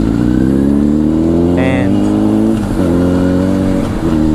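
Strong, steady wind buffeting a helmet-area microphone while riding a motorcycle, with the engine's drone running underneath; the roar stays loud and unbroken throughout, with a short higher tone rising briefly near the middle.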